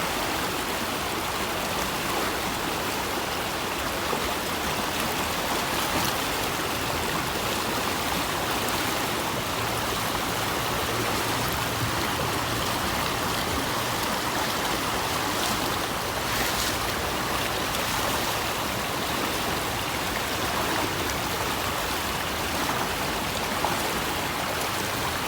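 A river in Sri Lanka rushes steadily while someone bathes in it, a loud, unbroken broadband wash of flowing water close by, with no talk over it.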